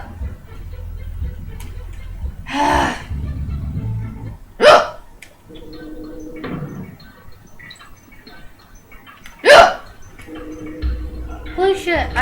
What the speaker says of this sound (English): I had like hiccups for like